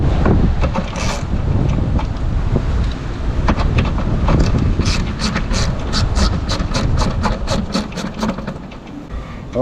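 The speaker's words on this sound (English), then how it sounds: "Now I go to film again and it's as windy as crap again" Strong wind buffets a microphone outdoors beside a Land Rover Perentie/Defender under repair, a constant loud low rumble, with small sharp metallic ticks and clicks scattered through the latter half.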